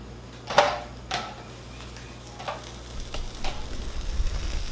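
Fish frying in a pan on the stove gives a steady low sizzle, broken by a few sharp crackles and pops near the start, close and moderately loud, with no voices.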